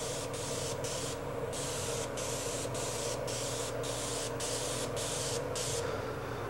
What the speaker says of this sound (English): One thing with airbrushing is to make sure the surface doesn't get too wet.